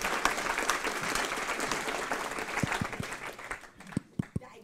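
An audience at an evening lecture on nitrogen claps in steady, full applause that thins out toward the end into a few last scattered claps.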